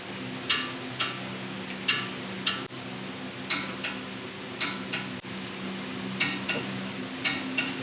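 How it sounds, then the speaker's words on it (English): Clicks from a torque wrench tightening brake caliper bolts on a Jeep TJ during a big brake kit install, a steady run of sharp, close metallic ticks repeating in short bursts. "now I'm going to use the torque wrench set to 75 foot-pounds"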